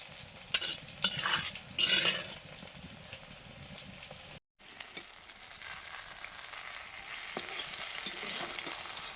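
Eggplant slices fry in mustard oil, a soft continuous sizzle with a few clinks and scrapes of a utensil early on and a brief dropout midway.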